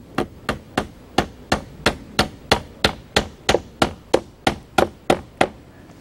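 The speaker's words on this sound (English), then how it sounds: "where the rafters meet the king post, I'm toenailing them in with some 8-penny stainless steel nails" 8-penny stainless steel nails are toenailed into gazebo rafters where they meet the king post, making a loud, close series of about twenty sharp hammer blows in a quick, steady rhythm, with no talking.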